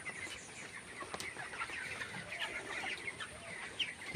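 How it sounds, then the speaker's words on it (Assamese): Chicks clucking and peeping continuously in a poultry shed, chirps scattered throughout at a moderate level with no talking. "এয়া আৰু মোৰ পোৱালিখিনি দেখিলে আপোনালোকে"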